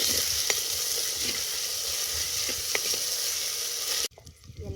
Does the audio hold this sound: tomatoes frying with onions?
yes